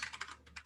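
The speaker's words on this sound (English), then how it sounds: "I'll type it in the chat" A short run of computer keyboard typing, quick uneven key clicks close by and fairly quiet, with no voices.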